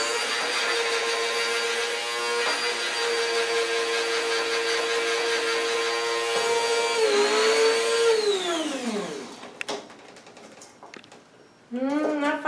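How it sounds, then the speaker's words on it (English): An electric coffee grinder powders herbs with a loud, steady whirring hum for about eight seconds, then spins down with a falling whine. A brief pause follows before a short final pulse. "Coffee grinders are great for, you know, any kind of grinding down of herbs."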